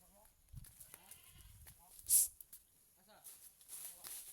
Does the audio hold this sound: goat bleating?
yes